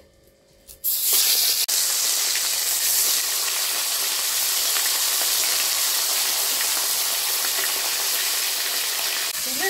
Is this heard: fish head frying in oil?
yes